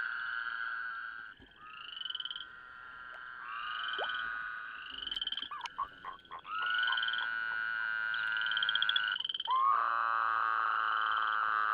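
Male Woodhouse's toads trill steadily in overlapping, sustained high-pitched calls in a wetland, several voices layering over each other with brief breaks, fairly loud and continuous.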